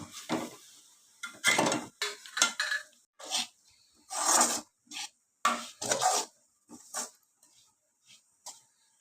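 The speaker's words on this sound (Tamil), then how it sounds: "இப்போ வந்து மசாலா பொடியெல்லாம் சேர்த்திடலாம் சேர்த்திட்டு நல்லா வந்து மிக்ஸ் பண்ணி விட்டாங்க" Masala spice powder being stirred into chicken in a pan for a Tamil-style chicken dish: a run of short, close scraping and rubbing strokes of a spoon against the pan, in irregular bursts with brief pauses, no voices.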